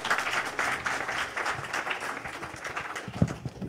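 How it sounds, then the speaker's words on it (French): An audience at an event in Haiti applauds steadily for nearly four seconds, a dense wash of overlapping claps at moderate, even loudness, with no voices standing out. "Applaudissez-nous s'il vous plaît."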